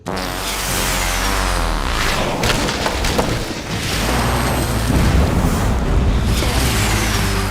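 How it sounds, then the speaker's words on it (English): A loud cartoon explosion of bad milk bursts in with a heavy boom and rumbling debris that fills the whole stretch, surging again midway before trailing on without speech. "Don't cry over exploded bad milk, Abe."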